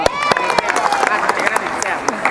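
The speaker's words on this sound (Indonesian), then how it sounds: "tepuk tangan" A gathering of PSHT martial arts schools applauds with quick, close clapping that runs steadily under voices and crowd chatter.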